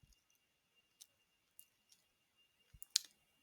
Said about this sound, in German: Ich klicke jetzt hier auf Saisonpreise